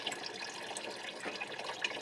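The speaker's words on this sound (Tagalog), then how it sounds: "Gripo po namin." A household faucet runs steadily, a soft continuous splash of water with faint drips, heard quietly and alone.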